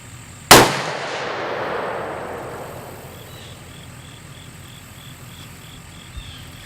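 A single loud, sharp shot from a .45 caliber smokeless muzzleloader, followed by a long echoing decay outdoors, with crickets chirping faintly afterward and a small knock near the end.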